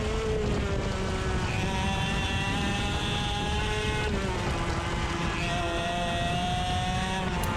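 A racing kart's engine screams continuously at a SKUSA Summernationals race, its high, buzzing pitch holding steady with small dips and rises as it runs over track and grass, loud and close throughout.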